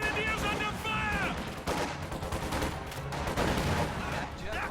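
Dense gunfire from a WWII strategy video game battle involving Panzer Grenadiers: continuous loud rattling shots and bursts, with a brief voice line heard over the firing at the start.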